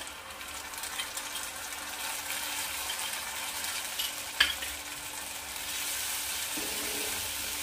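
Tomato paste sautéing for Punjabi rajma masala, a soft, steady sizzle at low level with a single sharp utensil tap near the middle and the hiss brightening toward the end, close, no voices.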